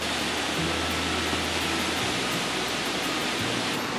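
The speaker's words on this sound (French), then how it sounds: "voilà pour la cascade du Rouget" The Rouget waterfall at Samoëns roars in a steady, dense wash of falling water that fills the whole moment without letting up, with no voices on top.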